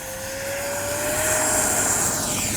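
A Freewing 70mm Yak 130 RC jet spools up on its electric ducted fan for takeoff, a loud rising whine building steadily over a few seconds.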